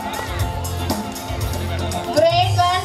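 Crowd noise at a school prize-giving as children go up for their awards, a steady murmur and cheering with a few shouts, though clear clapping is hard to pick out. Voices chatter throughout.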